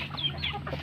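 A brief flurry of chicken clucks and soft squawks nearby, over a low steady hum.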